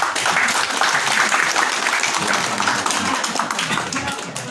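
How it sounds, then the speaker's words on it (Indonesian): An audience applauds teachers at the opening ceremony of a madrasah and PAUD preschool, with dense, close, continuous clapping that fades slightly toward the end. "Mohon aplaus untuk ibu guru."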